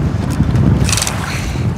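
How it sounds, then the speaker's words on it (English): A fishing boat pitches through rough seas while out after a dogtooth, with loud, steady wind buffeting and the wash of water and surf around the hull. "Andy and Serge need to work together to maneuver the boat and pull the fish further into the open water."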